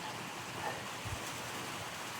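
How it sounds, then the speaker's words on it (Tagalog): Heavy rain with gusting wind at a small hut out at sea, a steady dense broadband wash that holds even and moderately loud throughout, with no voices. "Naabot tayo ng ulan at saka hangin."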